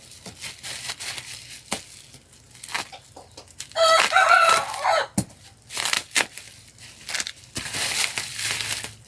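A pet rooster crows once, loud and close, with sustained harmonic calls, amid crinkling and crushing of plastic packaging before and after.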